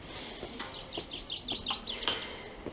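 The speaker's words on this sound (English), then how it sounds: "So you can see, you can hear the bird chirping outside." Birds chirp outside the Vimy tunnels and trenches in a quick series of bright, fairly faint tweets spread over a few seconds, with no talk.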